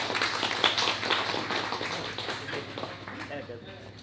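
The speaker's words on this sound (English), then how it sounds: "give a round of applause for Ken." Applause from an audience at an Ethereum meetup talk, a moderate crowd clapping steadily before fading, with voices talking over it.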